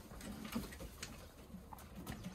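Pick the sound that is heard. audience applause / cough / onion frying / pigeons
pigeons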